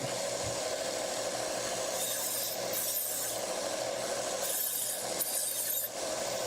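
A knife's single bevel ground on a Trizac A30-equivalent abrasive belt, a continuous loud grinding rasp with slight surges and brief dips as the blade presses on the running belt.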